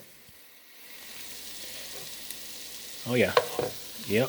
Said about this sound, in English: When those onions reduce down like that, and all the flavors are being released from this kielbasa